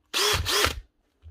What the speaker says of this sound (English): This is a DCH778 Type 2 Dewalt drill, brushless version.